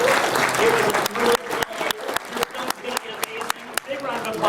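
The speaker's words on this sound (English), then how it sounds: "applause once again." An audience at a Toy Fair 2014 movie presentation applauds loudly at first, then the clapping thins to scattered individual claps while a voice talks over it.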